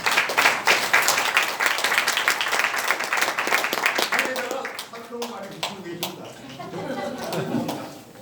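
A church congregation at a women's mission hall gathering applauds loudly and densely, the clapping thinning out and fading as voices and murmured talk take over toward the end.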